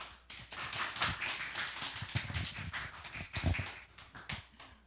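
A lecture audience claps to welcome the institute director to the stage, a dense burst of hand claps with scattered louder individual claps, moderately near and without talk.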